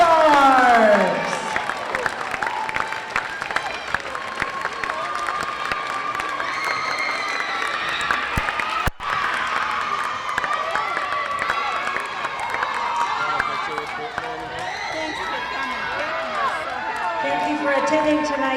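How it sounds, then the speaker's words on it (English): Crowd applause and cheering in a gym after an all-star volleyball match, loud and sustained throughout, with claps, shouts and whistles mixing with talk and a brief dip midway. "Rousing round of applause for our East and West"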